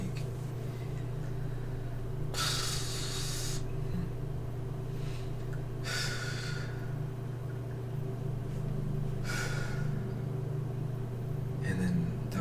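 A voice imitating a snake with long hissing exhalations, three drawn-out breathy hisses spaced a few seconds apart over a steady low hum, close and moderately loud.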